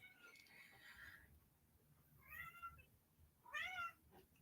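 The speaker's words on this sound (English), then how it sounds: "Meow. What are you trying to tell me, Earl?" A cat meows softly three times, each call short and separated by pauses, with faint low background noise between them.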